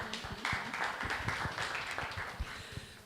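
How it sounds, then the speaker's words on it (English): Audience applause at the Southern Sector Consultative Forum on the Affirmative Action (Gender Equality) Bill, heard as a scattered patter of hand claps at moderate loudness that keeps up throughout. "A round of applause."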